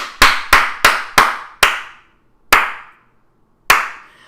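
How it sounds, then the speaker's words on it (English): A button-triggered applause sound effect plays as separate sharp claps, four in quick succession and then three more spaced further apart, each loud and close with a short decaying tail and silence between. "I have to keep touching the applause button with my tail every time to clap."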